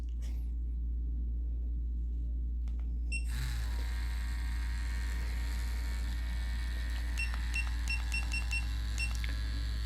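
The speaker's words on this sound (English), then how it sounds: "I'm not very fond of that beep" Several short high electronic beeps from an Ambition Torped tattoo machine sound in quick succession over a steady low mechanical hum, fairly close and clear.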